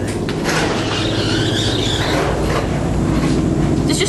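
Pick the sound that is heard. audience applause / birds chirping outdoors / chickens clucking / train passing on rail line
train passing on rail line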